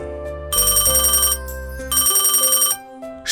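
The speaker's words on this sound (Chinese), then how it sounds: "是谁打来的电话？" A telephone rings in two long electronic bursts with a short gap between them, loud and close, set over a soft cartoon music bed.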